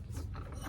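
A brief whirring, grinding mechanical buzz of a small motorized car door lock actuating, heard close for under a second.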